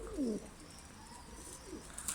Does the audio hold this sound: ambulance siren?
no